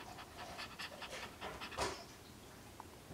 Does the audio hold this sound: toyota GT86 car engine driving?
no